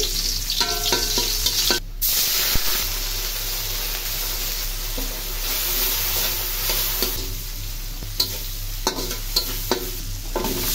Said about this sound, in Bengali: এখন পেস্টটা দিয়ে দেই, লাউটা বসাই দিচ্ছি।